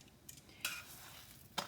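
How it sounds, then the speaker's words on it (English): Flour tortillas fry in butter in a pan with a soft, faint steady sizzle, punctuated by a few brief clinks of a utensil against the pan. "on buttering and frying up these flour tortillas"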